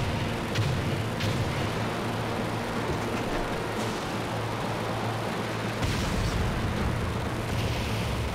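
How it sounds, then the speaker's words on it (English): An explosion in a video game sends out a continuous, heavy rumble. Sharper blasts break through near the start and again around the six-second mark. "That explosion!"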